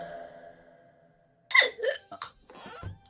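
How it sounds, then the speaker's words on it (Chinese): A person lets out a single short burp up close after a brief silence, followed by a few smaller breathy vocal sounds, all fairly quiet. "先打个嗝。"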